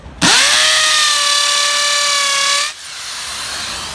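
A power drill fitted with a Rodman multi-purpose drill bit whines at a steady high pitch for about two and a half seconds, then cuts off, with no talk over it.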